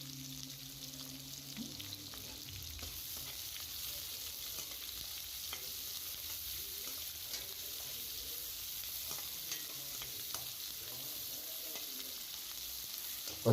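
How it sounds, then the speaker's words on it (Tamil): Onions fry in a pan for okra poriyal, a quiet, steady sizzle with occasional scraping and clinking of stirring; a low hum at the start soon fades. "வெங்காயம் ஒரு 7-8 நிமிஷம் ஆகட்டும், நல்லா வதங்கட்டும்."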